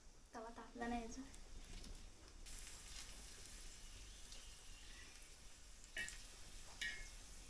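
Garlic frying in oil in a pan that is not yet fully hot, giving a steady low hiss throughout, with a brief burst of voice-like tones near the start.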